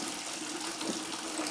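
Water drains from an old hot water tank into a bucket as a steady, faint splashing rush with no breaks.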